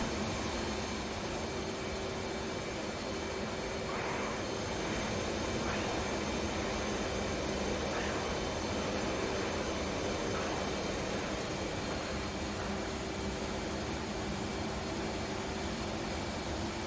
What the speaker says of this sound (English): the thing I don't like about the F-18 is there's too much sound isolation in the cockpit